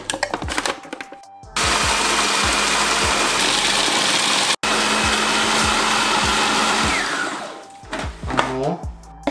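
A kitchen blender whips a pumpkin candy mixture with coconut flakes and cocoa, a loud steady whirring that runs for several seconds, briefly cuts out and resumes, then winds down, framed by quieter clinks before and after.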